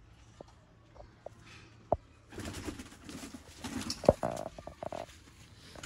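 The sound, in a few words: pigeons cooing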